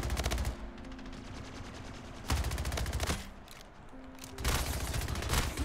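Submachine gun fire in a close-range video game shooter match, three dense bursts of rapid automatic shots separated by short pauses, loud and near, no talking.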